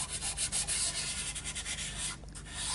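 White Derwent pastel being rubbed over a drawing, a close, continuous scratchy rubbing with rhythmic strokes and a short pause near the end.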